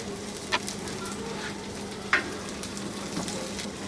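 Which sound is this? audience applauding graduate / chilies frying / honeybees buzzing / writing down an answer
chilies frying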